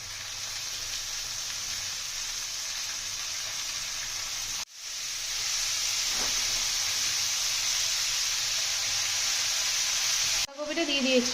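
Cabbage goes into a pan of spiced oil with tomato, giving a steady, close sizzling hiss that briefly drops out then returns louder, ending with a few clinks and stirring sounds.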